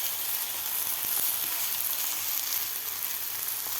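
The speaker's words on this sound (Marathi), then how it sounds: "आता यावर आपल्याला हे थालीपीठ" Cheese thalipith roasts in oil on a pan, giving a steady, dense sizzle that holds evenly throughout with no talk.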